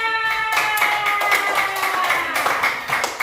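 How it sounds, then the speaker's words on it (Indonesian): Several people clap together in a brief burst of scattered applause, with a tonal voice or ringing sound running underneath at the start. "tepuk tangan untuk Vira."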